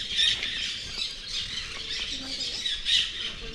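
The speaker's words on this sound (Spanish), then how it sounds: "El sonido de los citácidos, que son los cotorros." Parakeets squawk in a Colima forest, harsh shrill calls repeating in bursts over a steady hiss of background forest noise, moderately distant and fairly faint.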